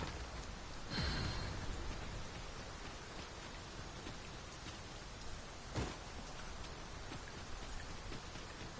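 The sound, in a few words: rain in the video game Dragon's Dogma 2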